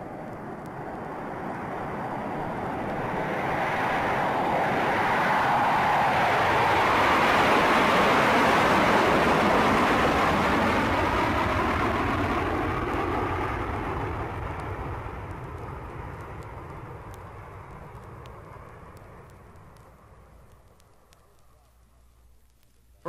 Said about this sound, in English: Join me at the airport for a jet flight.